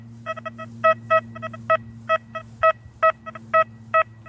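A metal detector beeps repeatedly in the field, a run of short, sharp, evenly paced tones that are near and fairly loud, above a low steady hum.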